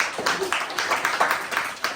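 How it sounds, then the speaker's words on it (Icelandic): Applause for a performer named Balti at a school annual celebration show, a quiet, continuous patter of clapping hands from an audience across the whole moment. "Við skulum gefa henni Balta hérna gott klapp."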